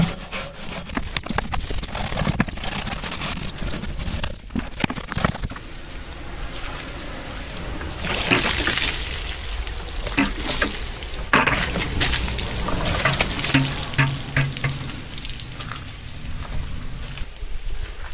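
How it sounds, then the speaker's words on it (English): Rusty metal being scrubbed clean of rust-remover residue with a stainless steel scourer and scrubbing brushes in a bucket of water, continuous rough back-and-forth scraping with wet splashy strokes, close and loud, no talking. "I've got a stainless steel scourer and 2 scrubbing brushes in the bucket here. Let's wash off the residue."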